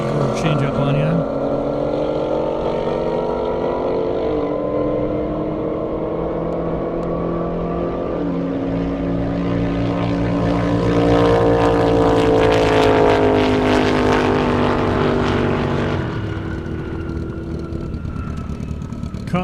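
Drag race on an airstrip with an Oldsmobile Cutlass, a loud sustained engine roar with shifting harmonic tones rising and falling over about twenty seconds, a commentator talking over it throughout.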